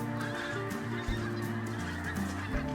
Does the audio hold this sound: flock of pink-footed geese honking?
yes